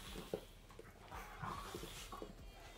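Several dogs, including a puppy, move about indoors with soft whimpers, pants and scuffling, while a person speaks nearby; the sounds stay low and close throughout.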